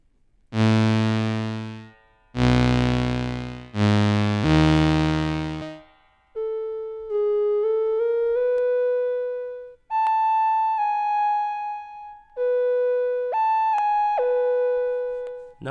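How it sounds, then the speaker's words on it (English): Electric guitar played through the spring reverb setting of an Eventide H9 Max pedal: a few loud strummed chords that ring and decay, then sustained single notes and short melodic lines with a lingering reverb tail, no talking. "Now let's turn the spring reverb on."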